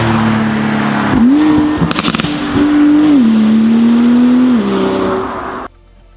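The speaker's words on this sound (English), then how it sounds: "when the driver lifts off, you get the popping and crackling, and it's with an Akrapovic exhaust" A Porsche 911 Turbo with an Akrapovic straight-through exhaust revs hard and close, its engine note rising and falling, with a burst of sharp pops and crackles on lift-off before it abruptly cuts away.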